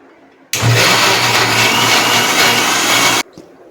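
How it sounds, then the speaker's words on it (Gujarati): A mixer grinder grinds date pulp in its jar, whirring loudly for about three seconds, starting and stopping abruptly, with a steady grinding roar in between. "આપણે મિક્સર જારમાં પીસી લઈશું"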